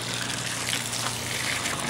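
Water gushes steadily from a hose or can onto newly planted tomato clones outdoors, a continuous close splashing wash with no talk.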